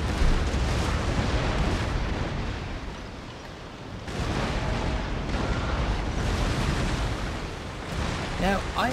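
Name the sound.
cannon fire from ships in Empire: Total War video game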